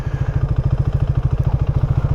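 A motorcycle engine runs steadily and close by as the clutch slowly engages and the bike begins to move. It makes a loud, even, low-pitched rhythmic chug with no talking.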